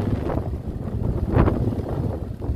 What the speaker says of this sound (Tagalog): Lalo na pag ganitong ulan at saka malakas ang hangin